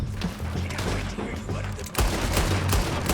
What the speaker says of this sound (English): It's all about the dual-wielding pistols, man.